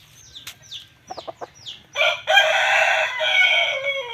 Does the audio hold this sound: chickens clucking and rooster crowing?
yes